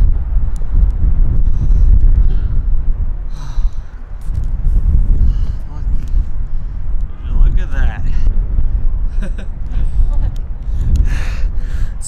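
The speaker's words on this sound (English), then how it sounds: "This wind is so cold." Cold wind buffets the microphone at the edge of Sylvan Lake in South Dakota, a loud steady roar with gusting swells throughout, and a faint voice breathes or gasps beneath it.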